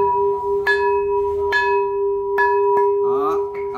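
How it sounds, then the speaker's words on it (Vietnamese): An old Chinese porcelain pot, about 42 cm across and 15 cm tall and free of cracks, is struck four times and rings with a clear, sustained bell-like tone that lingers between taps. "Thanh rất là vang giống như tiếng chuông luôn"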